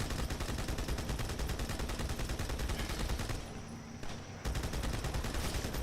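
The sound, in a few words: mounted turret gunfire in a Halo video game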